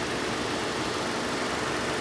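A 2010 Nissan Rogue AWD engine hums at a steady idle, a continuous mid-pitched rumble without voices.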